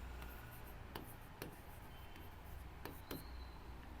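Chalk or marker writing on a classroom board, a series of faint scratchy strokes and taps spaced irregularly over a low steady background hum, with no voice over them.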